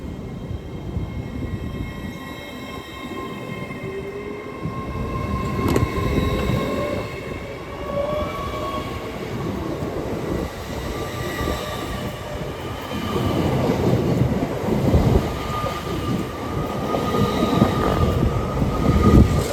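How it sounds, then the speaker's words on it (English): LNER Class 801 passenger train departing Durham station for Edinburgh Waverley, a steady building rumble of wheels on rail with faint squeals and rising motor whine, close by and growing louder as it pulls away. "Depart now is LNER service off to Edinburgh Waverley."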